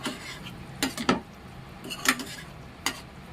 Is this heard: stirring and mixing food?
yes